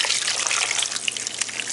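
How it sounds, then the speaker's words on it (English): Homemade sauce being poured over a turkey for a non-traditional Thanksgiving, a steady close trickling and splashing of liquid that runs unbroken with no voices over it. "And now I'm adding the grandma's sauce I told you guys."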